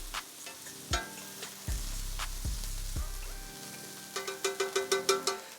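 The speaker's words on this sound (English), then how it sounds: "stir something, keep it stirring." Shrimp scampi sizzles in a pan while a utensil stirs and scrapes, with sharp clanks and taps against the pan, then a quick run of rhythmic knocks near the end.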